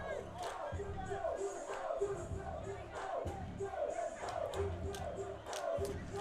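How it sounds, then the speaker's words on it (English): A high school football crowd in the stands cheers and shouts to urge on the defense, a rising and falling roar of voices with repeated rhythmic chanting bursts and no single dominant sound. "this crowd trying to get back in this thing to root that defense on"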